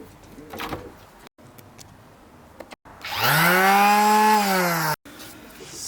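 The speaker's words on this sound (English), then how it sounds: "Got a power drill for the sanding." A power drill fitted for sanding runs against an old painted flag sign, giving short scraping touches and then a loud whining run of about two seconds that rises and falls.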